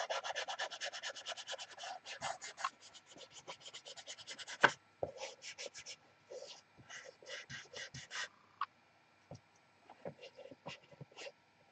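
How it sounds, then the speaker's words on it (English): A painted piece is sanded by hand with quick, rhythmic rasping strokes in bursts, fairly quiet and close, broken by short pauses and a sharp knock. "A little more sanding."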